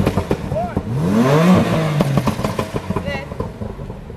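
A supercar engine starts and revs hard at a street race start in Jamaica, with one sharp rising-and-falling roar close by and people talking and calling out around it.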